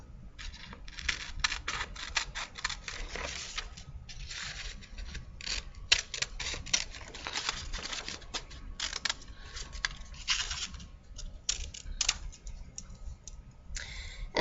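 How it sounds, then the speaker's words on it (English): A paper rectangle being cut out along a dotted line with scissors, close quick snips and clicks in an uneven, continuous run. "The rectangle with the dotted line. So go ahead and cut that shape out."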